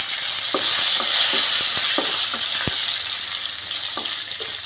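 Garlic ginger paste and curry leaves fry in a pan for a Kerala-style chicken curry, giving a steady loud sizzle with scattered crackles and pops, close up and alone without voices.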